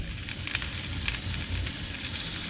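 Bacon-wrapped asparagus sizzles in a pan as it is brushed with yakitori sauce and turned. The sizzle is close and steady, with a constant crackling hiss and no talking.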